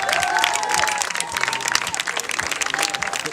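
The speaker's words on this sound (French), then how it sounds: "on peut l'applaudir" Applause and cheering from an audience at a horseball club party celebrating a two-time French championship, a dense crowd of clapping that holds steady across the moment, with a few voices and whistles mixed in.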